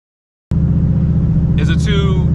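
A turbo SN95 Mustang engine kicks in abruptly after a moment of silence and settles into a loud, steady, throbbing idle. Someone talks briefly over it toward the end.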